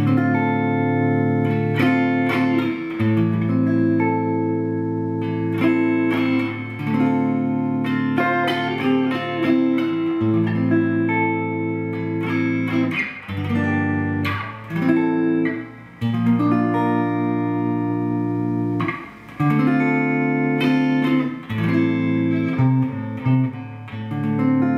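A Telecaster played clean through a 1974 Peavey Classic amp rings out in sustained chords and picked notes, loud and steady throughout with no voices.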